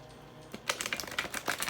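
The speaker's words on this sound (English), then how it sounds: "I'm going to shuffle the grace cards" A deck of oracle-style grace cards is shuffled by hand close up, giving a quick burst of crisp, rapid riffling clicks after a brief quiet start, with no talking.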